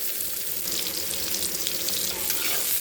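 Ginger and garlic sauté in a pan for a coconut-based intestine and chana dal kootu, making a brief, loud, crackling sizzle with stirring scrapes close by and no voices.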